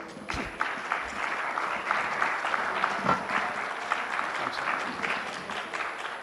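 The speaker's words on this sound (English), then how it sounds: "So round of applause for all these guests." An audience at a conference event applauds guests on stage, a sustained, moderately distant ripple of many hands clapping at an even level throughout.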